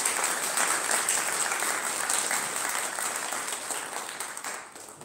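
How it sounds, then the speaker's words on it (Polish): Audience applause at a national consumer and farmers' convention in Siedlce, Poland: sustained clapping from a large crowd that stays loud for several seconds and then gradually tapers off. "Jeszcze raz, wielkie brawa dla naszej bohaterki."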